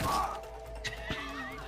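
A horse neighs in a short whinny near the start, followed by quieter snorting and rumbling sounds.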